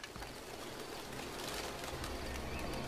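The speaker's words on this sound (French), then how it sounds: "Une tour et des pigeons." Pigeons coo near a tower, their soft calls blurred into a steady wash of broadband outdoor noise that grows slightly louder toward the end.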